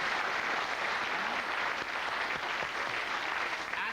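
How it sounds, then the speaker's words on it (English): A TV studio audience applauds cricketer Mark Waugh on a comedy panel show, steady dense clapping that holds at full strength throughout with no voices over it. "Can I just first, a big round of applause for Mark Waugh, one of the greatest cricketers of all time."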